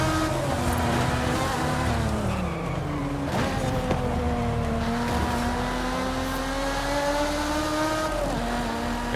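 Toyota Supra racing in Forza Horizon 5, engine droning steadily with rising and falling pitch through gear changes, loud and continuous with a brief skid or impact around the middle.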